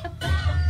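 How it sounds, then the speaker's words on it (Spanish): A young rooster, a TV show mascot, gives a short burst of clucking, close and fairly faint, lasting under a second. "el gallito."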